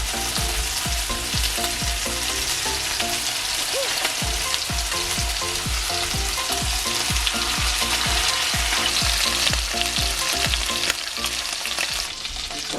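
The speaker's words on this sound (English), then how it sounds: "Now that I added the butter and it is all hot, I'm going to go ahead and add in the pork chops." Pork chops frying in hot butter in a pan, a loud continuous sizzle with rapid crackling pops throughout, heard alone without speech.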